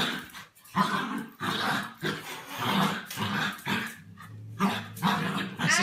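Dog barking in Minecraft, a run of repeated game barks and growls with a few whimpers, steady and fairly loud with no talk over it.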